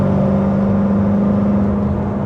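A BMW E92 M3 with a custom exhaust accelerates with its valves closed, giving a steady, loud, droning engine hum with a strong low tone that holds evenly throughout, with no talking.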